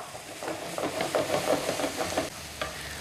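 Remaining onions stirred into a hot pan, frying with a steady close sizzle and scraping stir strokes for a few seconds, no talking.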